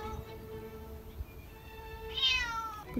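A cat meows repeatedly, fairly near, outdoors in the Meteora area of Greece, with a rising high-pitched cry near the end over faint background noise.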